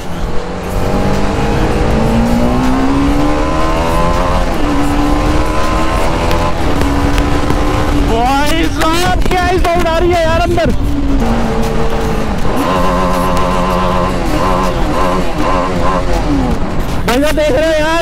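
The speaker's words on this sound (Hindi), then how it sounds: "बाकी बाइक बाइक की साउंड सुन रहे हो आप, क्या ही गूंज रही है अंदर यार" A motorcycle engine drones continuously inside a new highway tunnel where construction work is underway, its tone rising and falling as it echoes loudly off the walls, with someone talking over the steady ride.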